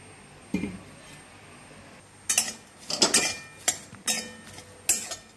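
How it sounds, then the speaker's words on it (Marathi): A utensil knocks and clinks against a pan while dagad phool (stone flower) roasts in a little oil. A soft tap comes first, then a busy cluster of close metallic clatters and scrapes, with no voices. "त्यानंतर टाकून घेऊया हे दगडी फूल, ते पण थोडंसं तेल टाकून आपल्याला भाजून घ्यायचं आहे।"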